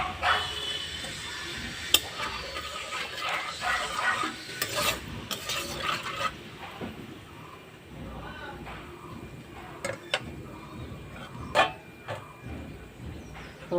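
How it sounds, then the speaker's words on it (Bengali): Dry bay leaves, cardamom and cinnamon fry in oil while a utensil stirs and scrapes the pan in sharp clinks over a low sizzle, with someone talking at times. "ফোড়নটা ভাজা হয়ে গেছে"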